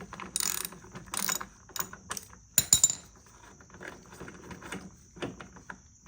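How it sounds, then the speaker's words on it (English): A ratchet with a 12mm socket backs out a bolt on a Honda lawnmower wheel, heard as close, rapid clicking bursts in several short runs with pauses between and one sharper metallic clank midway, no talking. "Using 12mm socket, unscrew the wheel bolt."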